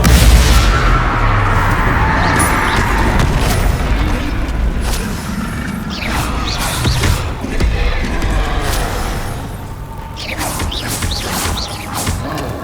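Bombarda and Confringo explosion spells in Hogwarts Legacy, repeated loud booming blasts and crashing bursts over a rumbling battle bed, with shouted incantations among them.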